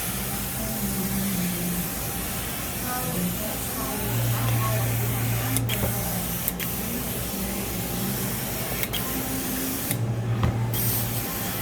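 Carpet cleaning solution (Savage) being sprayed onto commercial carpet, a steady hiss running throughout under a low machine drone, with a brief pause near the end.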